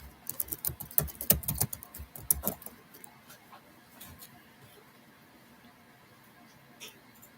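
Rapid clatter of keystrokes on a computer keyboard during a meeting, a dense burst of clicks in the first few seconds that thins to scattered faint taps in a quiet room.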